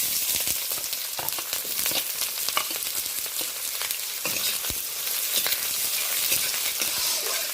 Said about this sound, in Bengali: এই পর্যায়ে আমি কেটে রাখা পেঁয়াজটা দিয়ে